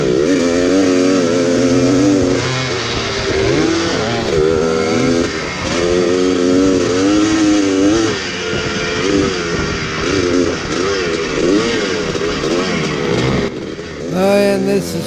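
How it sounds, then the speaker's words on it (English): Several 1976 Yamaha YZ400 two-stroke motocross bikes racing at a vintage motocross event on a Texas dirt farm track, loud, continuous engine wail rising and falling through the gears as the bikes pass close by. "Old guy moto freaking, vintage racing."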